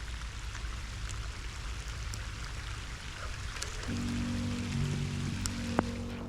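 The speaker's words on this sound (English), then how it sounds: "It is starting to rain pretty good." Rain patters steadily outdoors during a bass fishing outing, a soft continuous hiss with scattered drop ticks, joined near the end by a low hum that may come from a boat motor.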